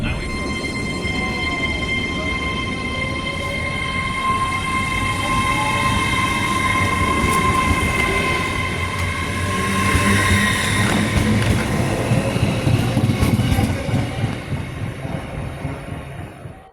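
Train carriage running on rails late at night on a Liverpool rail journey, a steady loud rumble of wheels with sustained tonal hum and squeal lines throughout, continuous and close, swelling slightly toward the end.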